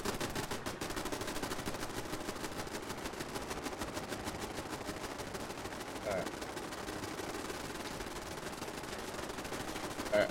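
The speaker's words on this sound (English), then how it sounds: "Turrets are annoying." Automated turrets firing in the video game Fallout 76, a steady, dense crackle of rapid gunfire running throughout at moderate distance.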